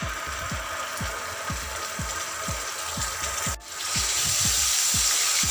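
Ginger garlic paste, cumin seeds and asafoetida fry in hot oil for green chilli pickle, a steady loud sizzle with rhythmic scraping stirs throughout and a brief dip before the frying swells again.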